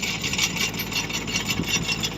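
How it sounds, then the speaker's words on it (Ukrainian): A tractor rolls steadily through an orchard while saplings are being planted, giving a continuous close engine drone with a broad, rough mechanical hiss and no pauses. "Ось зараз покажу сам процес, коли о, рухається, рухається трактор."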